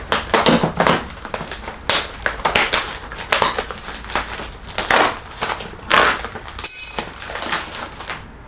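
Sawzall blade slicing and tearing through packaging on a portable 12V fridge, repeated close crunching, ripping strokes in uneven bursts with short pauses.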